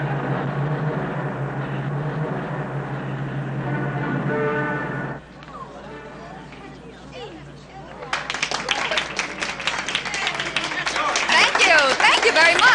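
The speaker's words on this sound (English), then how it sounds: "Oh, how I love that applause." Audience applause from 8 s onward, dense and loud, following several seconds of talk-like sound and a quieter gap; the clapping builds and continues to the end.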